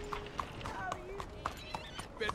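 A horse in Red Dead Redemption 2 running uphill, with regular clip-clop hoofbeats at a steady galloping rhythm, moderately close, under a man's speech.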